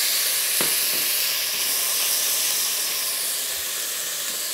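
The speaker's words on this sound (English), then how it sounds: "What I'm going to add in now is some garlic, some fresh diced tomatoes" Garlic and fresh diced tomatoes sizzle in a hot pan while a sauce base for braised duck leg fettuccine is made, a dense steady hiss throughout with a couple of faint clicks, loud and close.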